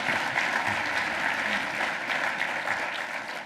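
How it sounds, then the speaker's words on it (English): Audience applause at an environmental law award ceremony, a dense, even wash of clapping from a crowded room sustained throughout. "Applause."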